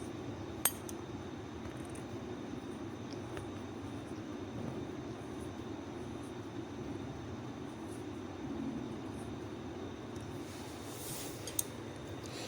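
Nimki flour snacks deep-frying in hot oil over low flame, giving a steady, even sizzle and bubbling that runs throughout, with a couple of faint clicks and no talking.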